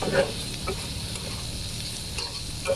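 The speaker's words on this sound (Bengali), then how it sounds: "মাছগুলো দিয়ে একটু ভেজে নেবেন আর আমি কিন্তু আর একটু তেল দিয়ে দিচ্ছি" Loitta dried fish fries in hot oil with a steady close sizzle, with occasional scraping and stirring sounds from a pan.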